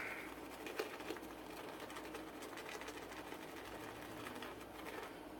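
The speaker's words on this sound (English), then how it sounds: "You can already see I'm starting to form a lather." Brush lathering Catie's Bubbles Sunset shave soap, a steady close swishing and scrubbing that runs continuously throughout, with no talk over it.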